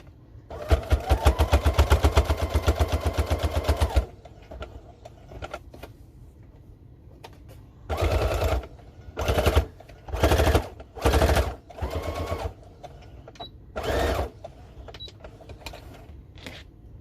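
A sewing machine stitches a fabric face mask in a sustained fast rattling run, then several short bursts with pauses, close and fairly loud, no talking.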